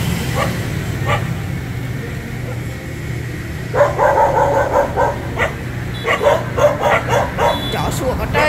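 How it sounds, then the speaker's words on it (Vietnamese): Dogs barking at a temple in Hue at night near Tet, several sharp barks and yips in bursts over a steady low traffic-like hum, with people talking. "Chó sủa có trời."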